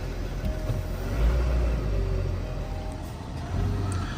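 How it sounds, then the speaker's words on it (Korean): A family SUV with about 17,000 km on it, at a used-car auction yard, runs with a steady low engine rumble that holds at a fairly even level throughout, with no talk over it. "시동을 한번 걸어보도록 하겠습니다"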